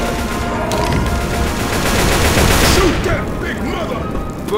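Loud, sustained video game gunfire rattles continuously, with heavy automatic bursts under shouted voices.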